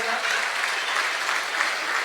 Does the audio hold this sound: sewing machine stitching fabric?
no